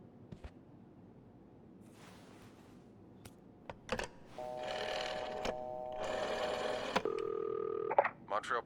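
In the video game This Bed We Made, a telephone is dialed: scattered clicks and handling noises lead into a run of electronic dialing tones, several short and then longer beeps in quick succession.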